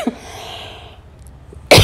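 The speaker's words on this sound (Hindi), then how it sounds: "सॉरी मेरे को खांसी हो रही है" A woman coughs once, sharply and loudly, close up at the very end, after a stretch of quiet kitchen ambience while idli sambar is cooking.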